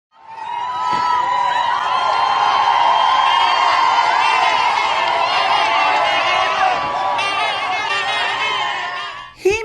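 Large outdoor crowd cheering and whooping for King Charles, a dense sustained roar of voices with shouts rising above it for nearly ten seconds, close and loud, then cutting off abruptly at the end.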